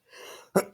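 A single short, sharp sneeze from a person, preceded by a brief soft inhale, fairly faint and close.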